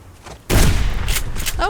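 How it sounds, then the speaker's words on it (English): A shotgun blast aimed at a moose in the Subsistence video game: one loud, close, sudden boom followed by a sustained rumbling tail and faint trailing sounds. "We should be able to take that out with a shotgun, shouldn't we?"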